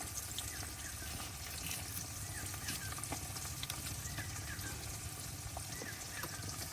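Fish frying in a pan in a village kitchen, giving a faint, even sizzle that continues steadily through the clip without speech.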